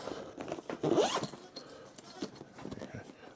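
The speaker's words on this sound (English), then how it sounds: "It's got double zip as well" A zipper on a small Parkside tool bag is pulled in a short, close rasping run, followed by lighter handling rustles and faint scrapes.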